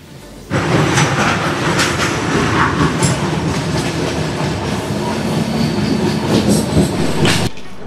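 The Araku train runs through a tunnel in a loud, echoing roar of wheels and carriages with steady clatter and occasional metallic squeals, fading slightly at the end.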